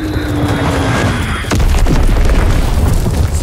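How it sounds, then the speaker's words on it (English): A heavy bomb explosion in the video game Call of Duty WW2, a loud deep boom that bursts in suddenly and rolls on as a low rumble, following a faint tone. "Enemy bomb incoming. Get to cover."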